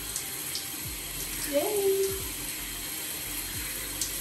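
Water runs steadily from a shower while hair is rinsed, a constant hiss with a brief voice and a few small bumps over it.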